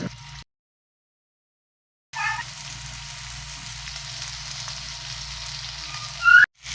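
Shami kebabs fry in a spoonful of heated oil in a frying pan. After a stretch of silence, a steady, close sizzle starts and carries on evenly with no talking.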